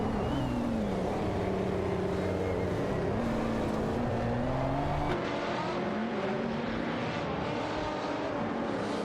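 Jaguar F-Type Project 7 and Aston Martin DB11 V12 race close together, engines droning loud and steady with rising and falling pitch as they rev, the tone dropping and shifting partway through as they pass.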